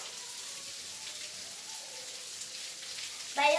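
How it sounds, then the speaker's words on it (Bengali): Rain falls steadily outside as a soft, even hiss in the background, with no talking and a brief louder clatter at the very end. "বাইরে হচ্ছে বৃষ্টি"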